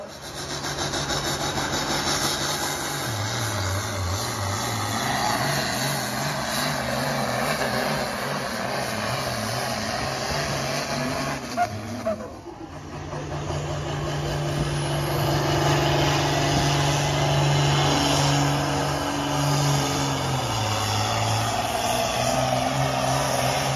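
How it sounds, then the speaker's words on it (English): Tractors at a tractor pull at a fair roar loudly with a rough, throbbing engine drone that wavers in pitch, dips briefly midway, then surges back up, heard from nearby with no talking. "I've got a little footage from the tractor pull the night before last to show you as well."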